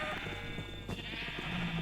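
A sheep in a modded Minecraft Nether survival game lets out a bleat over a steady droning background, the call moderately loud and near.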